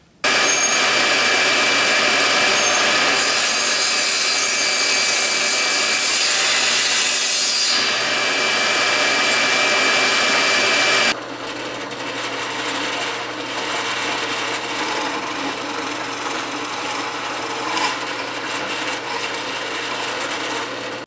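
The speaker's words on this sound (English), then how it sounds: "we'll use my jigsaw to cut all of those slots" Jigsaw cutting slots in wood for clamp racks, a loud, continuous buzzing saw drone that drops to a quieter, steady cutting whine partway through.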